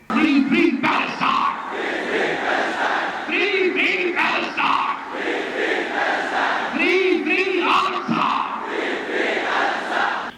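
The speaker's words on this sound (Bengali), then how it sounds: "চলতে থাকে স্লোগান ফ্রি ফ্রি প্যালেস্টাইন" Large crowd at the March for Gaza solidarity rally chanting 'Free Palestine' in repeated rhythmic call-and-response bursts, loud and continuous, with voices rising in unison every few seconds.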